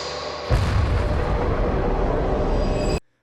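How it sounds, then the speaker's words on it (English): A supernova explosion sound effect: a sudden loud rumbling blast that bursts in after half a second, holds as a dense sustained roar for about two and a half seconds, then cuts off abruptly to silence. "that sets off the most dramatic explosion in the universe."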